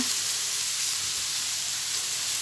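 Mixed vegetables stir-fry in a hot pan with pork, giving a steady, loud, close sizzle and hiss that holds unbroken throughout with no talking.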